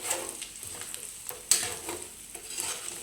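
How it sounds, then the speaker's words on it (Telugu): A spoon stirs spices through chicken fry in a pan just off the heat, a soft scraping and faint sizzle heard close, with one sharper clack midway. "ఇప్పుడు ఈ మసాలాలన్నీ ఇలా చికెన్కి పట్టేటట్టు కలుపుకుందాం"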